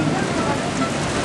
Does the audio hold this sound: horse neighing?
no